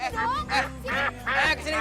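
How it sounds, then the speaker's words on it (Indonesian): Ducks quacking in a duck pen, a run of loud, nasal, repeated calls in uneven bursts, close by and filling the whole stretch without pause. "Bebek slow. Bebek sini. Bebek."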